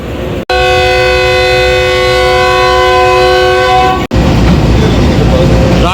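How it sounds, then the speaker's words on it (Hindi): Islamabad Express horn sounding as the train departs Rawalpindi: one loud, sustained tonal blast of about three and a half seconds, then a brief cut and the rumble of the moving train. "6 o'clock train is leaving Rawalpindi."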